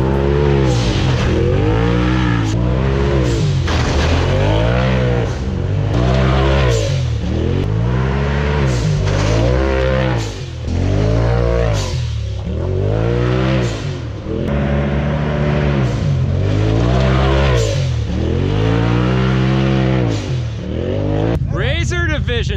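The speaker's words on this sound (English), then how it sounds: "the Forge Motorsports blow-off valve sounds insane." A Polaris RZR Turbo 4 UTV fitted with a Forge Motorsports blow-off valve revs hard on a slick Georgia clay trail at Durhamtown, its engine surging up and down in pitch over and over, loud and close, with voices underneath.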